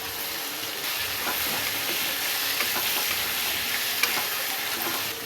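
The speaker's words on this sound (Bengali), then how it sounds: "এবার আমি টমেটোটা তুলে দিচ্ছি" Tomatoes go into ginger, garlic and onion already fried red in a pan while making Bengali chicken kosha, giving a steady, close sizzle with light stirring throughout and no talking.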